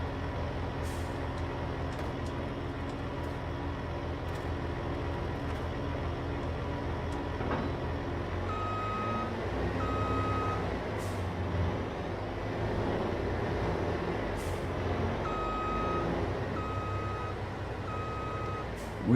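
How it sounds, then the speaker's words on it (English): A truck's reversing alarm in Farming Simulator 22 beeps in steady repeated pulses over a constant low engine and machinery rumble, with no one speaking. "we got the fat ass horns going off. Beep, beep, beep. Wide load."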